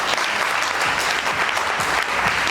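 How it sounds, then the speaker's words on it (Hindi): An audience at a hotel sales training session claps loudly and continuously, a thick, sustained burst of applause with no speech over it. "जोरदार तालियां भैया के लिए"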